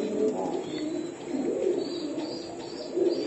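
Gorra Pakistani pigeons coo softly at a pigeon farm, a low, rolling murmur that carries steadily through the short stretch with faint chirps above it and no talk.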